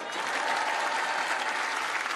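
Audience at a beach comedy show applauds a stand-up comic, a dense, steady burst of clapping from a sizable crowd, fairly close and alone without talk.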